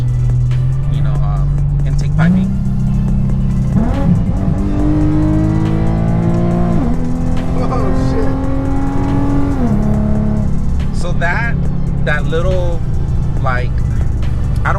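A Vortech-supercharged 2012 Infiniti with a six-speed manual accelerates hard, its engine note rising through gears with audible shifts and supercharger whine, loud and close from inside the cabin, with people talking over it.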